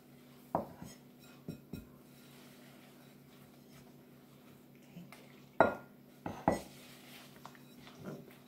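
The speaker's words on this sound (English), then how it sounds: "Mix your mixture together with your spatula" Brown bread batter mixed with a soft silicone spatula in a bowl: faint soft scraping with scattered light knocks of the bowl, sparse and irregular over a quiet background hum.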